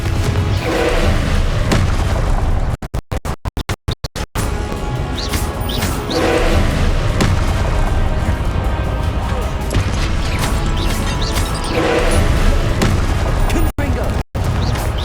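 Repeated Confringo blasting-curse explosions from Hogwarts Legacy, with dense booming crashes and thuds packed over continuous game noise and brief drop-outs. A voice shouts the spell over the blasts.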